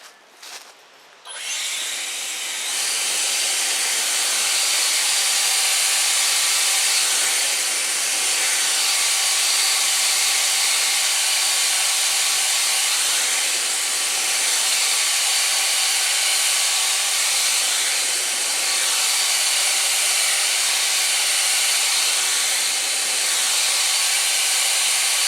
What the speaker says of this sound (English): So now what I'm going to do is I'm now going to blow with the blower again, but I'm going to use the turbo.